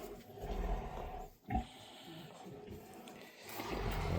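Low grunting and snorting from pigs during farrowing in a quiet barn, faint and close, with soft shuffling noises in between.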